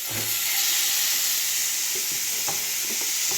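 Masala-coated fish sizzles loudly in hot oil, a continuous close hiss and crackle with a few sharper pops and spatters near the end, and no one speaking.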